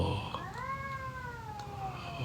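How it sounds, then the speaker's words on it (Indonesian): A domestic cat gives a single drawn-out, rising-then-falling meow, clear and fairly close, over a steady low background rumble. "kedengeran ya suara kucingnya"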